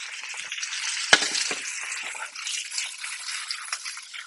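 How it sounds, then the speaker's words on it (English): Green beans tossed in a hot frying pan, a steady close sizzle with a sharp clatter as they are flipped, then continuous frying hiss. "Keep tossing the green beans."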